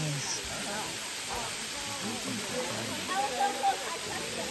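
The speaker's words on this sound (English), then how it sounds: "At the waterfall." Gozalandia waterfall in Puerto Rico, heard as a steady broadband rush of falling water that fills the scene evenly, with a few faint voices and brief louder splashes toward the end.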